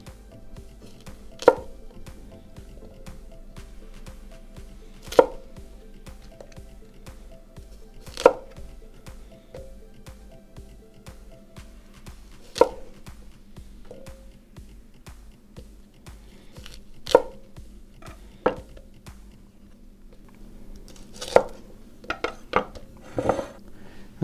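Knife halving Brussels sprouts on a cutting board, a slow run of single crisp chops spaced a few seconds apart, ending with a quicker flurry of cuts, close and clear with no talking.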